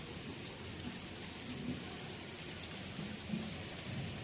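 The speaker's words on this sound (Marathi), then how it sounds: "हे बघा, हा पाऊस पडतोय." Steady unseasonal rain falls outdoors on the ground, a soft continuous hiss with faint low rumbles, quiet and even throughout with no speech.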